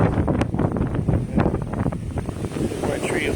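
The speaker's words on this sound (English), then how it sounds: "Whoa! It's a windy one out here." Strong hurricane winds from Hurricane Dorian on Oak Island buffet the microphone in heavy, uneven rumbling gusts, with sea surf churning in the background.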